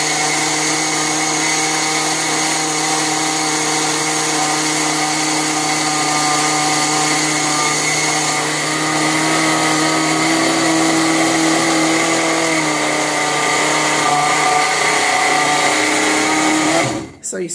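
A small electric grinder whirs continuously as it pulverizes flaxseed and chia seeds in a home kitchen, a loud, steady high-pitched motor whine that cuts off abruptly at the end, with a voice speaking at times.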